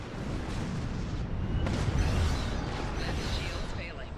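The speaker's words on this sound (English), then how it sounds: "Warning, ship is under attack." A starship under weapons fire in the space combat game Star Trek Online gives a dense, continuous rumble of explosions and impacts, with a steady low roar and scattered bursts. A computer voice speaks over it.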